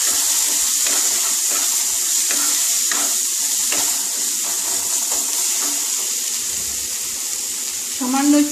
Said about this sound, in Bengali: সামান্য একটু জল দিয়ে দিচ্ছি